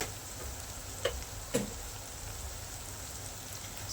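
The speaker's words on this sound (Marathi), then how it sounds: "सर्व मसाले मिक्स करून घ्यायचे त्याला तेलामध्ये" Ground spices, turmeric and coriander powder, mixed into hot oil give a faint, steady sizzling hiss, with a couple of soft clinks from stirring.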